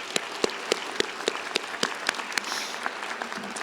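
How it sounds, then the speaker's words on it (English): Applause from the audience at a University of Idaho commencement ceremony in Idaho Falls, a steady patter of many hands clapping with sharp individual claps standing out, moderately loud and continuous with no talk. "Let's give them another round of applause."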